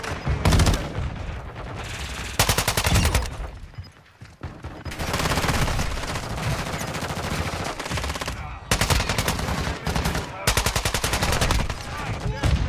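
Rapid automatic gunfire from Call of Duty: Modern Warfare III, loud and close, in dense sustained bursts with brief lulls, and a faint voice now and then underneath.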